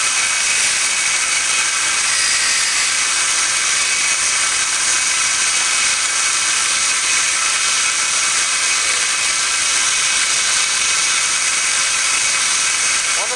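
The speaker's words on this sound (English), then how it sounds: "Always remember to buff it with the edge down so that you don't hook your buffing wheel into the sharp edge." A knife edge pressed against a spinning buffing wheel makes a steady, loud, high-pitched whirring hiss that runs on without a break.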